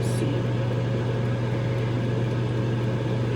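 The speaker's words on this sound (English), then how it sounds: "I'm going to put them in the microwave just to see" A microwave oven heats a plate of homemade vegan chik'n wings, giving off a steady, loud, unbroken hum with a low mechanical drone and no change over the few seconds.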